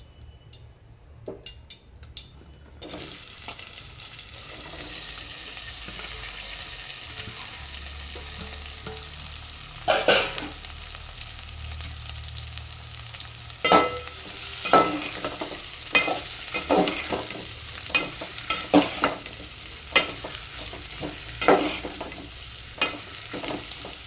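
Onions drop into hot oil in a pan and fry with a steady close sizzle, followed by repeated spoon scrapes and clinks as they are stirred. The stirring grows busier and louder toward the end, and no one speaks.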